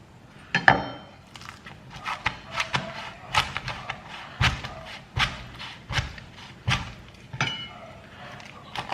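A knife cuts through a fried, flaky scallion pancake on a board, making a series of sharp thuds and crisp crunches in an uneven rhythm, close up with no talk.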